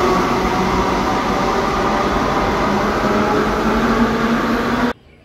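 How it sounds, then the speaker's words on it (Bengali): A Kolkata metro train in motion, with a loud, steady rumble and hiss of the carriage running continuously before cutting off abruptly near the end. "এখান থেকেই মেট্রো করে যাব।"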